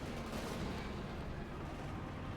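Ostwind flak tank firing in Company of Heroes 2, a dense, continuous rumble of rapid cannon bursts and booming impacts filling the whole moment without pause.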